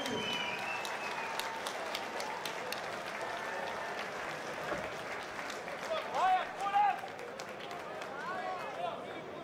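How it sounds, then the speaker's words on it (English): Steady crowd applause at a bare-knuckle boxing cruiserweight title fight for the losing fighter, continuous and moderately loud with a few shouts and a voice over it. "Please round of applause for Billy"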